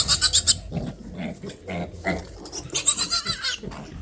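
An injured piglet, crushed by a sow, grunts and squeals in short bursts close by as it is picked up, with brief pauses between the noises.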